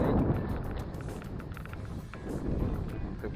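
An outboard-type motor on a small fishing boat runs steadily at sea in strong wind, a continuous low rumble mixed with wind buffeting across the whole stretch.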